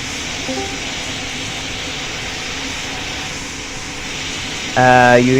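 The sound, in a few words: airliner jet engines at runway, from PTFS video game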